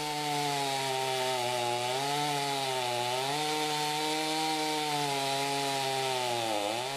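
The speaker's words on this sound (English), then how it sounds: "The MS-250C struggles a little bit, it's just not powerful enough for such big of a log" A Stihl MS-250C chainsaw cuts through a big log, its engine holding a steady strained whine that dips and recovers several times as it bogs under load, loud and close with no talk.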